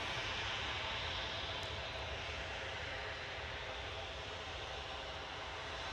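A passenger jet's engine roars at Manchester Airport, a loud, steady, broadband rumble and whoosh that holds constant with no talk over it.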